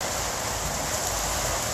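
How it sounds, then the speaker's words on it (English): Steady rain falls in Merida, Mexico, a dense and continuous hiss that stays even throughout, with no voices. "It's raining."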